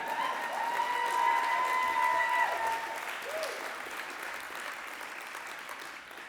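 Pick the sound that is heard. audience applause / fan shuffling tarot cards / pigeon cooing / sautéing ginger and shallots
audience applause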